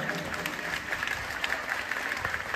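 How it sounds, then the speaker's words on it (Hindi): Applause from a crowd at a devotional gathering at Shri Guru Mandir in Yamuna Nagar, honouring saints; dense, steady clapping that fills the whole stretch, moderately loud with a faint murmur of voices. "एक बार सभी संत महात्माओं के लिए प्रेम की ताली का संबोधन।"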